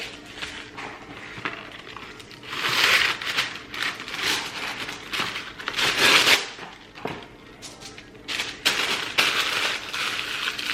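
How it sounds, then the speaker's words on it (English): Parchment paper crinkling and crumpling as washed beets are wrapped in a kitchen, close and uneven bursts of crisp rustling that swell and fade with the handling. "So I wrap it in parchment paper."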